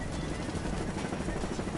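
Attack helicopter in Saints Row, its rotor and engine making a dense, continuous thrumming roar that stays close and loud throughout.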